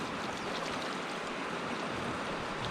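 River rapids along a sandy riverbank where kayakers paddle through, a steady broadband rush of churning water, constant and fairly near, with no voices over it.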